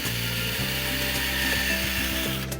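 A power drill bores small holes through a pipe being made into a seabird nest box, a steady whirring motor hum with shifting pitch and a brief click near the end.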